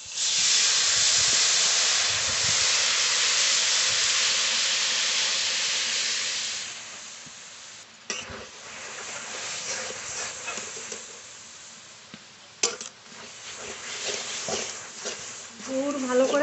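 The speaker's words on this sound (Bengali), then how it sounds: "গুড় ভালো করে জাল দিয়ে নেব।" Sugarcane jaggery heating in a wok gives off a loud, broad steamy hiss for the first several seconds, then fades to a softer crackling sizzle as someone talks over it.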